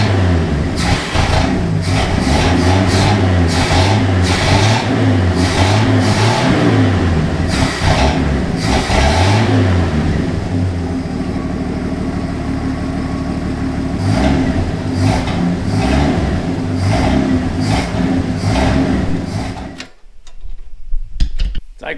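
A classic Ford truck engine with a faulty carburetor revs hard in repeated rising and falling bursts, loud and close, then settles into a rough idle before cutting off abruptly near the end.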